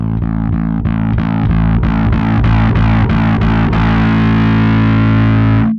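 A Sterling by Music Man Ray StingRay bass (DarkRay) rings one open string while gain is turned up, a sustained low drone growing from clean to heavily distorted with wavering, pulsing overdrive before stopping abruptly.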